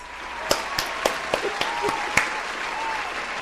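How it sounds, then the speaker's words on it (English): A small studio audience welcomes guest Deep Thrills on the Kat Calls show with scattered, distinct hand claps at an uneven rhythm, fairly sparse and moderately close. "I need everyone to make a big round of applause for today's guest"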